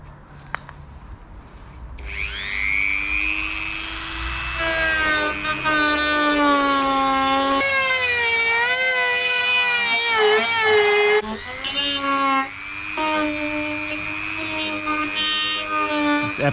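Surfboard foam and wooden stringer being sanded, a loud continuous rasping rub with shifting pitch over many seconds, close up, with faint talk in places.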